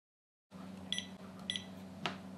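An Acaia Pearl Model S coffee scale gives two short, crisp electronic beeps about half a second apart as its power button is tapped, close and clear over a faint room hum.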